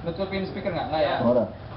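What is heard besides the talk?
No everyday noises stand out.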